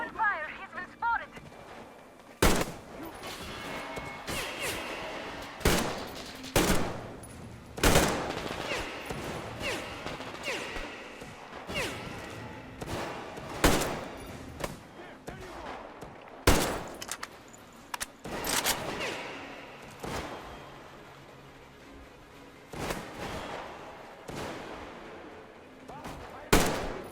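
Repeated gunfire from the video game Metro: Exodus, sharp shots scattered irregularly through a tense firefight, some close and loud, others in quick bursts, with voices talking between them.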